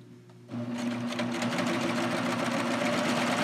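A serger runs a wave stitch along the edge of a fabric strap, starting abruptly after a short quiet moment and then humming and clattering steadily and close up until the end.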